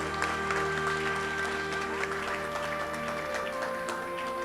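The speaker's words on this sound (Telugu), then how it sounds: "చప్పట్లు కొట్టాల." An audience at a Telugu Christian sermon claps in a steady, moderately loud burst of applause, with faint tonal background hum beneath.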